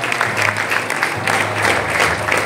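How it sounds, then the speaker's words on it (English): Applause from an audience for the Chief Minister of Goa at an official Indian government announcement event, a steady dense clapping wash lasting throughout with a low hum underneath. "Please give a big round of applause to Chief Minister of Goa for his excellent work."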